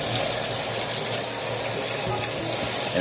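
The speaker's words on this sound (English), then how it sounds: "you can take vinegar, just a little bit, pour it" Vinegar is poured into a pot of water for cooking eggs, giving a continuous splashing, gushing pour that runs steadily for a few seconds with no talk.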